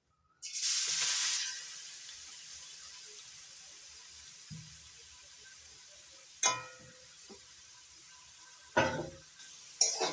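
Grated carrot goes into hot ghee with a loud burst of hissing sizzle that settles into a quiet, steady fry, broken by occasional scrapes and clinks of a spoon against the pan.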